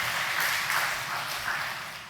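Applause rises from a church congregation at a Baptist seminar for the worship team, a steady wash of many hands clapping that swells slightly and then fades, with no voices.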